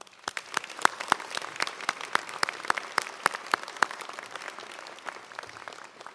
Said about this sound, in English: Please join me in a round of applause for our magnificent staff.